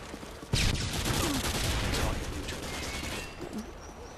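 Rapid automatic gunfire from a Modern Warfare 2 match on the Favela map, bursting in loudly about half a second in and continuing as a dense, steady stream of shots and clatter for several seconds.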